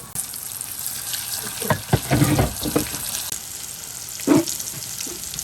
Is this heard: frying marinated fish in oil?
yes